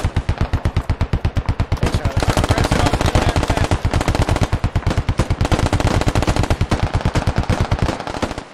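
Rapid automatic gunfire in the military shooter Squad, a long loud burst of evenly spaced shots lasting several seconds with only brief gaps, near and dominant.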